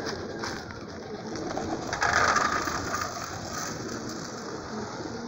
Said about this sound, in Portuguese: Agora eu vou pro tratamento dos pombos ali fora.